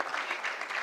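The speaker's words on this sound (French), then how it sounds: "Je pense qu'on peut applaudir." Brief burst of clapping from a crowd, steady and dense throughout, with no voices over it.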